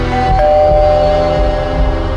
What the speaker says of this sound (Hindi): उस रात हमारे घर के दरवाजे पे एक घंटी बजी।